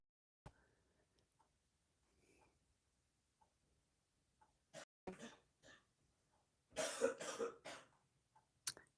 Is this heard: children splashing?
no